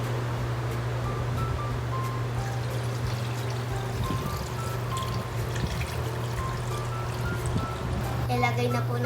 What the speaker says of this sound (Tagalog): Lagyan muna po natin ng tubig at hintayin po kumulo.